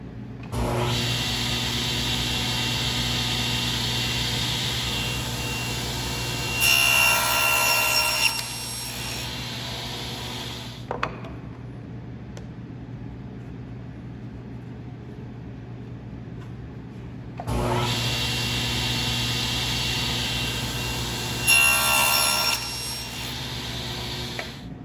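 Table saw cutting a tenon in wood: the motor runs steadily while two loud passes bite into the workpiece, with a quieter idle stretch between them.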